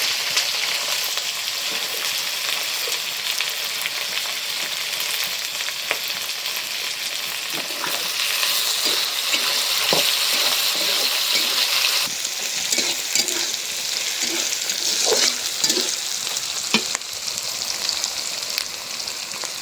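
Onions and green chilies frying in a pan, giving a continuous crackling sizzle with small pops and occasional stirring clicks, close and steady, growing a little brighter partway through.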